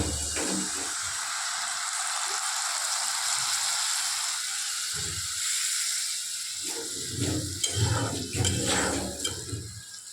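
A steady loud sizzle and hiss of spice paste frying in a pan, with scraping and clattering bursts of stirring toward the end.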